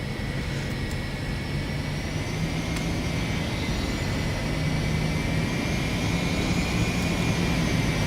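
The jet engines of an airliner in the X-Plane 11 flight simulator roar steadily with a high whine as it rolls down the runway. The tone stays continuous and close throughout.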